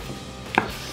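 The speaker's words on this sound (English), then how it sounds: "Now we're gonna cut this in half." A knife cuts through raw chicken on a cutting board in one quick, crisp chop, close and alone against quiet kitchen background.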